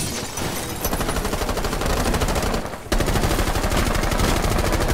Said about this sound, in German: Ich hab einfach random geschossen.